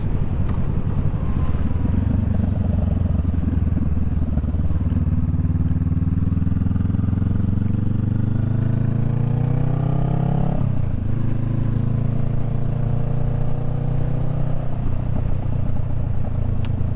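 A motorcycle engine burbles steadily during a ride, heard up close and loud, with rising and falling pitch as the rider shifts and changes speed, uninterrupted by talk.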